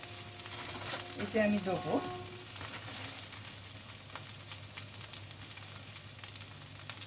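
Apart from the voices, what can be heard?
potatoes frying in a pan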